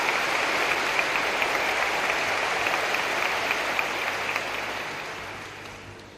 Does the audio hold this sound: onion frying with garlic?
no